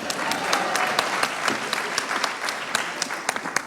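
Audience at a trade union congress bursts into steady, dense applause, a continuous wash of clapping with sharp individual claps standing out, close and loud throughout.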